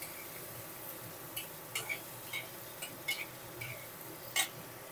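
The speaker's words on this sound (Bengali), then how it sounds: "লবণ, হলুদ গুঁড়ো, দিয়ে আলুটা ভালো করে ভেজে নেব।" Potatoes fry in oil with salt and turmeric while being stirred, giving a steady quiet sizzle broken by repeated light metallic clinks and scrapes of a spatula against the pan.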